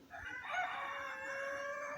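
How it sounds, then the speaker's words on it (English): Roosters crow steadily in the background behind a house, a sustained, fairly distant cock-a-doodle-doo with overlapping calls and no talk. "A few roosters going off in the background"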